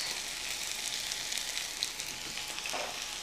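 Butter sizzles in a hot pan with red Swiss chard, a steady, fine crackling hiss that holds evenly throughout at a moderate, close level, with no talking.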